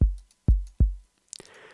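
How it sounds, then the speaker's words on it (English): Roland 808 drum machine kick hits three times, each a deep booming thump with a quick decay, heard alone before a short burst of noise. "So on its own, the 808 sounds like this."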